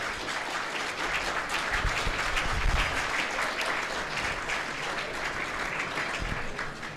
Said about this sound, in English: Please, a round of applause for Steve Sklar.